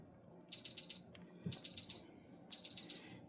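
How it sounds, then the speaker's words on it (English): A digital cooking thermometer beeping at its target temperature while making crockpot chicken and noodles, three bursts of four quick high-pitched beeps, faint and evenly spaced in a quiet kitchen. "And mine beeps, which I love because that way I don't have to be like looking at it or trying to read it."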